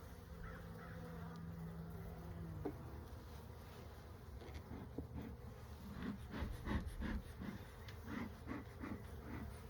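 Honey bees buzz around an opened hive during an early spring inspection, a faint steady hum up close, while crows caw repeatedly in the background.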